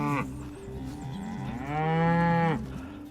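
A cow moos once in a long, drawn-out low call on a beef cattle and sheep pasture farm. It rises and then falls over a couple of seconds, close and clear, with no talk.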